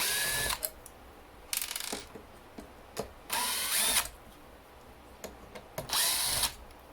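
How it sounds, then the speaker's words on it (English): A power bit driver with a T10 bit backs screws out of an A123 LiFePO4 battery bank, four separate whirring bursts of a second or so each with ratcheting clicks between them, close and fairly loud. "you got to take these screws off here. Remember, these are T10s, so you got your T10 bit."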